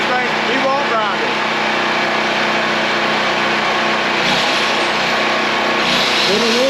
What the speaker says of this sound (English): first thing, DeWalt grinder.